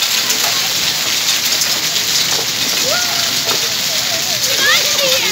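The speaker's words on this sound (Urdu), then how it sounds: "دیکھ لیں گنہ میں بارش ہو رہی ہے" A storm of rain and hail falls on Dina in Pakistan, a steady, dense hiss of drops hitting surfaces, with a voice speaking over it.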